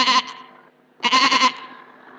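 Two close, loud goat bleats about a second apart, the second longer and quavering, with quiet room noise in the gap.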